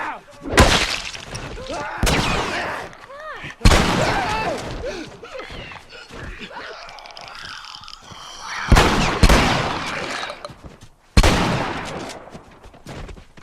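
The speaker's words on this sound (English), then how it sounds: "Thankfully, the shotgun is no freaking joke." A shotgun in The Last of Us fires several heavy, booming blasts spaced a few seconds apart, each with a sharp attack and a decaying tail, amid game noise and creature sounds.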